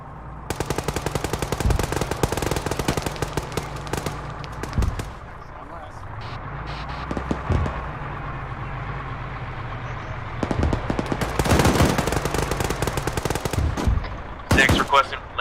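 A vehicle-mounted .50 calibre machine gun fires in the military game ArmA 3, with loud, rapid bursts of heavy automatic fire repeating across the scene, separated by lulls filled with engine hum. Voices talk over the gunfire.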